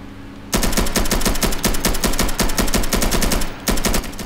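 Rapid automatic gunfire in the military shooter game Insurgency hammers out in long, dense bursts, loud and close, with a brief break before firing resumes.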